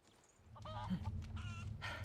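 A chicken in a video game gives a few short, faint squawking calls in quick succession over low background hum.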